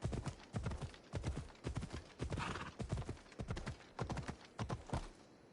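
Horse hooves clip-clopping at a steady gallop in Assassin's Creed Odyssey, a continuous run of sharp, close hoofbeats with no talk over them.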